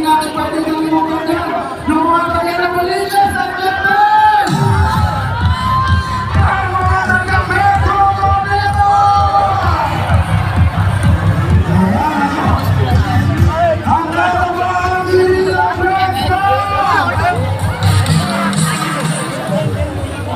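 A large Independence Day crowd at Quirino Grandstand in Luneta, Manila, shouts and cheers with loud, drawn-out voiced calls rising and falling over a roaring hubbub, while nearby voices talk through it.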